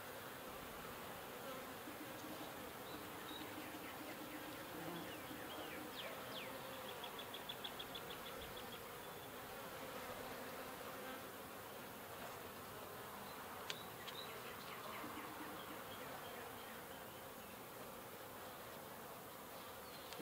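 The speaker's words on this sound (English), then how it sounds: "Bees are looking good. There's plenty of them." Honeybees buzzing steadily around a horizontal hive split outdoors, a dense continuous drone of many insects with occasional louder passes near the microphone, no voices.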